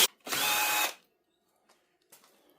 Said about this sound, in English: I always like to pre-drill. I'm going through a mass of timber with a screw